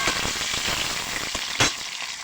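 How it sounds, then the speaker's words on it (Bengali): An egg fries in a pan with a dense, close sizzle and sharp crackling pops, a louder spatter bursting out briefly near the end. "ডিমটা আমি প্রথমে ভেজে নিচ্ছি"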